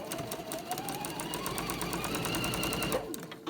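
A sewing machine stitches a patchwork quilt star block for a table runner, a close, steady rapid needle hum and clatter running evenly for about three seconds before stopping abruptly.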